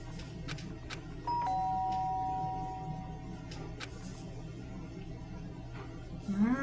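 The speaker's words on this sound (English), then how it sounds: "The sharp sound of the doorbell pierced my sleepy haze and pulled me back to the real world." A doorbell in the video game Danganronpa: Trigger Happy Havoc rings once, a clear two-tone chime sounding over quiet background music and then fading.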